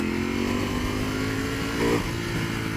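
A 2018 Ducati V4S superbike in race mode gives a sustained, loud engine drone with a slight rise in revs near the end, close and continuous throughout the short stretch.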